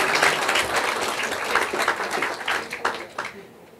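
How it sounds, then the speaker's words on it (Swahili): An audience at a school graduation ceremony breaks into sustained applause, a dense wash of clapping that holds steady and then thins out toward the end. "Piga makofi tafadhali."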